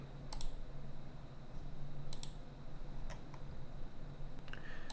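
A few sharp, sparse computer mouse clicks sound close up against a quiet room hum, spaced a second or so apart.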